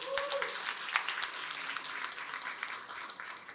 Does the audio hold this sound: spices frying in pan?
no